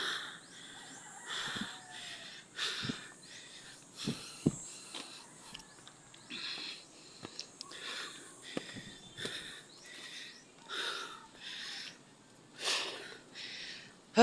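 Heavy, labored breaths in uneven bursts while hiking up a mountain overlooking the sea, close to the mic, with quiet outdoor background between gasps.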